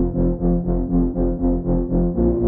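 Serum synthesizer recreation of the wobbly pad and pluck from a song: a warm, low-heavy pad pulsing in regular swells with a soft pluck rhythm, loud and unaccompanied.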